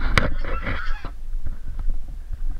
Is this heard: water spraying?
no